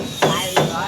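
Two sharp, close hammer strikes land on a nail during house building, spaced about a third of a second apart, over a faint background murmur.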